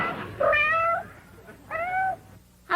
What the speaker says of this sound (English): How come you brought along the pussycat?